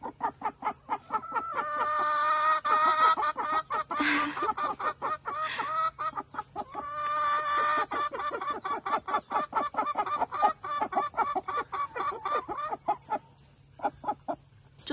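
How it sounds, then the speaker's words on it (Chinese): A hen clucks and sings in a chicken coop, a long run of rhythmic, drawn-out cackling calls repeated close by, loud and nearly continuous with brief pauses. "主教鸡就在旁边这里唱歌。"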